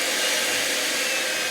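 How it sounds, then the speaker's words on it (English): Electric hand mixer whipping cream for a keto chocolate mousse, a loud, steady whirring hum close up that holds even throughout with no talking. "just keep whipping it until it gets real thick"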